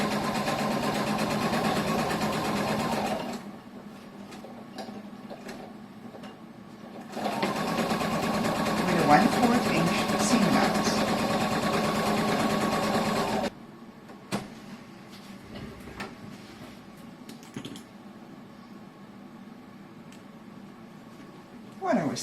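A sewing machine stitches a seam on a shoulder bag in two steady bursts, about three and six seconds long, with quieter handling and fabric rustle in the pauses between them.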